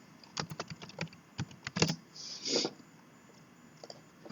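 Quick, irregular keystrokes on a computer keyboard while someone types an email subject line, close and fairly quiet, with a short burst of faster clicking midway and a pause near the end.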